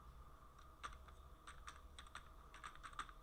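Light, quick keystrokes on a computer keyboard, typed in short irregular bursts at a faint level in a quiet room.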